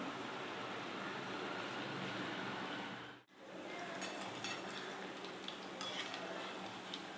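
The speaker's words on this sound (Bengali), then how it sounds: "একটু কম কম করেই ভাজি চারটে দিলাম ধীরে ধীরে হোক" Chhana jalebi, paneer jalebi, fry slowly in hot oil, four pieces at a time, giving a steady broadband sizzle with light clinks, briefly cutting out midway before resuming.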